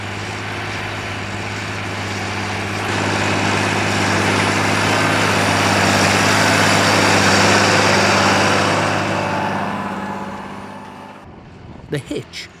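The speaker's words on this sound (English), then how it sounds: "An example is the 7-furrow Dowdeswell 145 series plough with which this 8410T is working." A John Deere 8410T rubber-tracked tractor ploughing with a 7-furrow Dowdeswell 145 series plough, its engine a steady loud drone that swells and then fades away, followed by a few brief knocks at the end.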